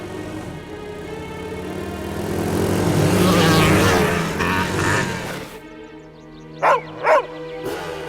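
A dog gives two short, loud barks in quick succession near the end, following a long stretch of swelling, rumbling background noise that cuts off abruptly.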